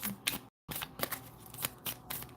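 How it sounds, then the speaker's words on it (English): Quick riffle-style shuffling of a tarot card deck, several crisp bursts close up with a brief silent gap partway through. "Let me do a quick shuffle."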